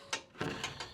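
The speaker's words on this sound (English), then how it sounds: "I'm gonna take our time here and wrench this on." A wrench works on a part while an electric cargo bike is being assembled, giving a few close metallic ratcheting clicks and clunks in quick, uneven succession.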